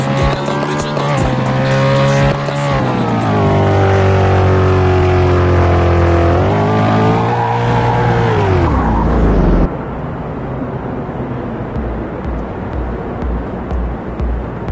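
Engine of a car in the Roblox game Street Outlaws drones loudly and steadily, its pitch rising and falling as it revs, then cuts abruptly to a lower, rougher rumble for the last few seconds.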